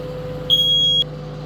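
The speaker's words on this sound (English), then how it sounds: "Smoke detector working" A smoke detector tested during a house inspection gives one steady, piercing half-second beep, loud and close over a low background hum.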